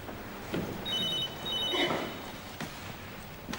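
A telephone rings in a quiet room, two bursts of bright electronic trilling separated by a pause, fairly near and heard alone.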